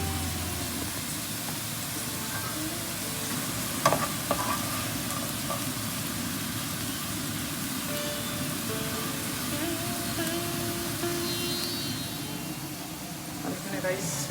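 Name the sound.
potatoes frying and being stirred in a pan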